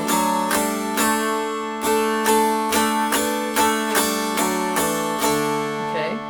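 Mountain dulcimer strummed evenly across all three strings, a steady run of bright, ringing strums at roughly even spacing with sustained harmonic drones, played alone and close with no talking.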